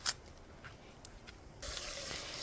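Tap water running over salted, chopped onions as they are washed, starting as scattered faint splashes and then turning into a steady close rush of flowing water.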